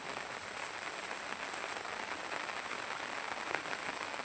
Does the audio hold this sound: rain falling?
yes